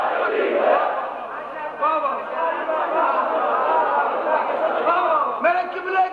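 At a Shia majlis gathering, a large crowd shouts the slogan Haidari together, many voices layered into a loud, continuous chant with rising and falling cries.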